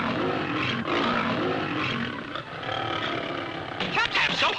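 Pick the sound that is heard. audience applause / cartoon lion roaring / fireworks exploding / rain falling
cartoon lion roaring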